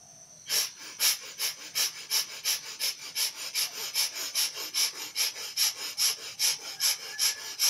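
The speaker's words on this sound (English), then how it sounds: "we will begin with the fire breath, getting everything moving, vibrations moving in the body." Rapid, forceful fire-breath pranayama exhalations, a steady run of about twenty sharp, close rhythmic puffs through the nose, each a hissing burst at an even quick pace, with no talking.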